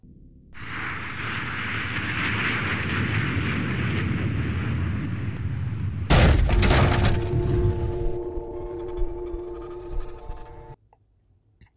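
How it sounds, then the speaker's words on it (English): A meteor crashes back to Earth in an animated game cutscene: a long roaring rumble builds, then a sharp cracking explosive impact, followed by ringing debris and fading tones, loud and alone with no talk. "he comes crashing back to Earth as a meteor"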